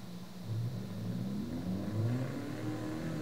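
A car engine in a racing video game, driven with a Logitech G923 wheel and shifter in manual mode, revs up and holds, then climbs again as the clutch comes up, a steady mid-pitched whine close and clear.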